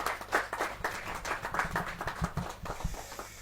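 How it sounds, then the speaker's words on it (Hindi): A crowd claps steadily throughout at a Hindi poetry recital, a dense patter of many hands at moderate volume with no voices over it. "जोरदार तालियों के साथ"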